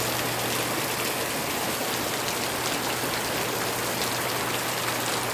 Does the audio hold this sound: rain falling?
yes